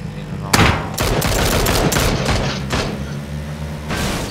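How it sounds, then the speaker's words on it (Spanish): Automatic gunfire in PUBG: sustained bursts of rapid shots with booming reports, loud and close, over faint background voices. "Nos están disparando, tío, nos están disparando."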